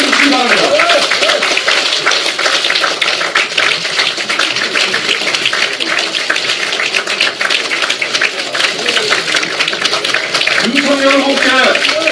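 Sustained loud applause from a large audience at a People Power Party lawmakers' general meeting, steady dense clapping throughout with a voice briefly audible near the end.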